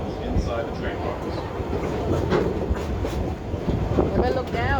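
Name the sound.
amusement park train crossing trestle at Busch Gardens Williamsburg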